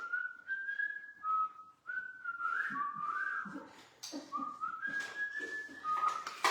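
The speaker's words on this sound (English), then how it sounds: "Sound a wolf whistle?" Someone whistles a series of sliding, wavering notes, close and fairly loud, with short breaths between phrases rather than a single clean wolf whistle.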